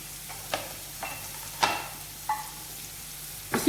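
Chopped onions going into 4 to 5 tablespoons of oil heated over a medium flame in a pan, a steady soft sizzle with occasional stirring knocks, no voices.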